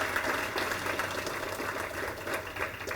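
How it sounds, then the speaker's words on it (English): A banquet audience applauds scholarship students at an award ceremony, a continuous, moderately loud patter of many hands in a large room, with no talking over it. "Give them a round of applause."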